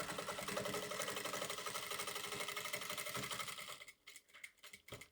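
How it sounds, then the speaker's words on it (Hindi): A sewing machine stitches fabric for a jumbo-size DIY travel bag, running in a fast, steady mechanical whir for several seconds, then stopping and starting in short bursts near the end. "ठीक है, ऐसे रखा और यहाँ से सिलाई करते हैं।"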